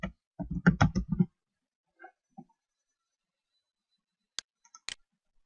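Typing on a computer keyboard: a quick burst of clustered key clicks, then a few isolated taps and clicks after a pause, close and dry with no talk.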